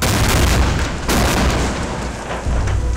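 A pyrotechnic explosion goes off on a film set behind an actor, a loud, close blast followed by a continuous heavy rumbling roar with further thuds, and no voices.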